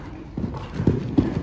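Horse hooves clip-clop at a walk during a riding lesson over ground poles and jumps, several uneven thuds close by with quiet background.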